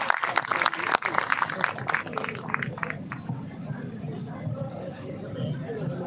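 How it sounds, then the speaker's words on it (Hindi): Crowd applause at a Rajasthan employees' strike rally, with sharp claps early that fade into a murmur of crowd noise and voices talking. "एक बार जोरदार तालियां हमारी इस महिला शक्ति के लिए।"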